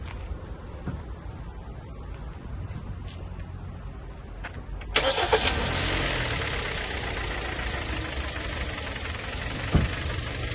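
Quiet background hum, then a 2012 Kia Sportage engine cranks and catches about halfway through, settling into a steady nearby idle with a brief knock later.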